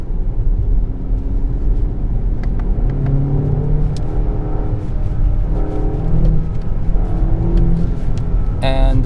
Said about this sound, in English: listen to what it sounds like without the enhancement